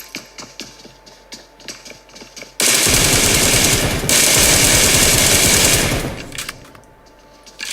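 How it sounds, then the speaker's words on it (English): Automatic rifle fire from an M762 in PUBG, heard in a PUBG duo scrim match: sharp rapid bursts erupt loud and close after a quieter opening of distant shots, then taper off. "And we see Queen at the moment armed with an M762, with Zeus firing in"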